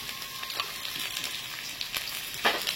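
Capsicum and potatoes fry in a pan with a constant soft sizzle of hot oil, broken by a few stirring scrapes and louder crackles, close by and with no talking.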